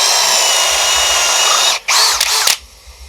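An AEG BSB18BL-0 cordless drill bores into wood with a dull speed ball bit, giving a loud, close, high whine that briefly cuts out, then restarts in short bursts before stopping.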